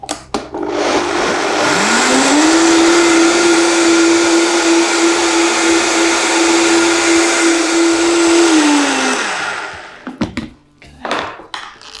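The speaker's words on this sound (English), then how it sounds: "And blend again, and I want this to be so creamy and so smooth that when I taste it again, I can't feel any kind of sandy bits from the nuts." A countertop blender whirs nuts with coconut water, revving up to a steady, loud high-speed roar for several seconds before winding down, followed by a few knocks and clatters.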